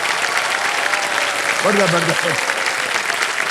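Loud, dense studio audience applause on the KBC game show for a contestant, a continuous roar of clapping with a voice briefly speaking over it midway.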